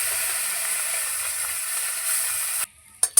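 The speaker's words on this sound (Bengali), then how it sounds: "বাকি যে মাছগুলো আছে সেগুলো একইভাবেই ভেজে নেব।" Pieces of fish frying in oil in a pan, a steady close sizzle that runs evenly and then cuts off abruptly near the end, followed by a couple of brief knocks.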